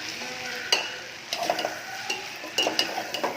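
A potato fry cooks in a pan with a continuous sizzle while a spoon stirs it, scraping and tapping the metal in irregular bursts, close and fairly loud, with no voices.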